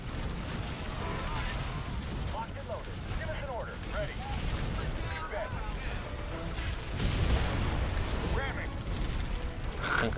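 Air-support bombs go off in Halo Wars, booming low rumbles and blasts that roll on under busy battle noise and radio chatter, swelling louder near the end.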